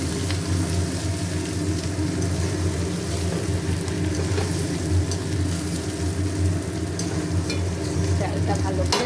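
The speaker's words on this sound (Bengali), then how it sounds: "চালটা ভালো করে ভেজে নেব।" Raw rice frying and being stirred in a pan, giving a steady, close sizzle with soft scraping from the stirring throughout.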